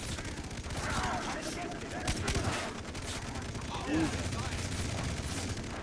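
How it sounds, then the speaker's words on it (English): Gunfire in the Far Cry 3 shooter game, a steady dense stream of rapid shots forming a continuous fusillade that runs the whole time under a busy, noisy game mix. "I can't shoot through Oprah Winfrey's asshole if I tried with these things"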